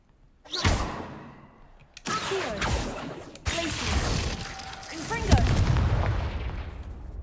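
The Confringo fire spell is cast in Hogwarts Legacy, heard as a series of four sharp whooshing blasts and booming impacts spread over several seconds, each followed by a rumbling tail.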